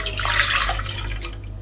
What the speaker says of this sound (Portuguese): agora aqui em uma panela eu vou estar colocando o suco da romã